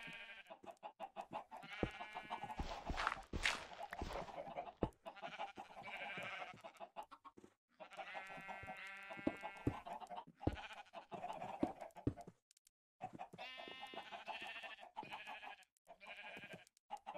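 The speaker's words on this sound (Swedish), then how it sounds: "Nu börjar man höra mina dumma lamm alltså." Lambs in the Minecraft video game bleat over and over in quavering, overlapping cries. The calls come in clustered bursts separated by short pauses.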